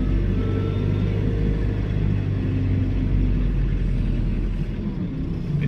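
Car passing close by a compact John Deere 4066R tractor, a steady loud low rumble of engine and road noise throughout without speech.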